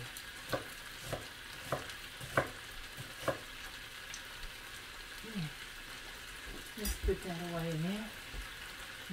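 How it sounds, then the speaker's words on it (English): A salmon patty sizzles faintly in a hot skillet, a low background fry under a series of sharp taps and clinks, with a voice speaking briefly near the end. "my skillet's getting hot now for my salmon. It's starting to sizzle it."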